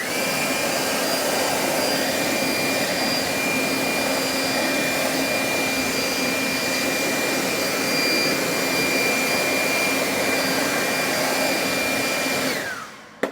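Air blower drying a freshly coated car wheel, a loud, steady high-pitched roar running unbroken for about twelve seconds before it cuts off abruptly.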